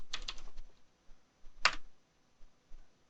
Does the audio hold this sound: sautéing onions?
no